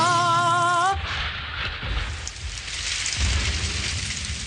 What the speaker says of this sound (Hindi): ये तो बारिश शुरू हो गई।